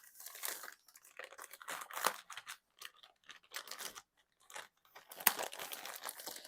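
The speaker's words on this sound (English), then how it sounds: "So let me grab a baby wipe here." A baby wipe pulled from its soft plastic package at a crafting table, giving close crinkling and rustling bursts of plastic with short gaps, ending in a sharper snap.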